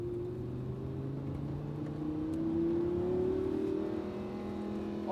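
A Lamborghini Huracán accelerates on a race circuit, its engine note rising steadily in pitch through a gear, strong and close for several seconds, then easing off near the end without any voices.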